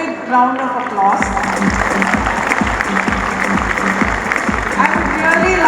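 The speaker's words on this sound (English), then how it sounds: "Guys, please give yourself a big round of applause." A room of firm team members at a company event breaks into loud, sustained applause, dense clapping from many hands with some crowd noise, beginning just after a second and continuing to the end.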